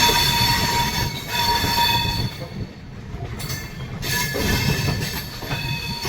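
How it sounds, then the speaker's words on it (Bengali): Chambal Express train slowly changing tracks as it enters Jhansi station, with steady rolling rumble and wheel squeal throughout, a brief lull midway, and continuous loud track noise close by. "দুপুর প্রায় 3টের সময় ট্রেন ধীরে ধীরে ট্র্যাক চেঞ্জ করে ঝাঁসি স্টেশন এন্টার করছে"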